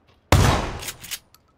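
A single loud gunshot in a video game: a sharp, close blast that decays over about a second, with a faint echo at the end and no voices.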